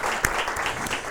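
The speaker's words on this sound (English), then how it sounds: "let's make an applause for all three of our guests" Audience at a prospective doctoral student day applauds its three guests, a brief burst of close, steady clapping with one sharper clap near the start.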